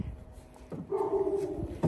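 A neighbour's dog barks in the distance, letting out a short yelp followed by a drawn-out, whining bark over quiet background noise.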